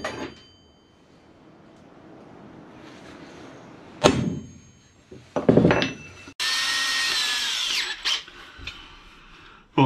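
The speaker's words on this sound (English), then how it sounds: "Mag drill will sit there, and we'll be able to drill a nice big 27mm hole" A magnetic drill whirs in short bursts, then a longer high-pitched grinding run as the bit bores a 27mm hole into metal, with clunks between.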